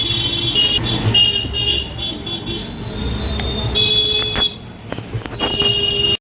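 A shared e-rickshaw (toto) rolling through busy street traffic outside a temple in Ujjain, with a steady motor and road hum and repeated short horn toots nearby.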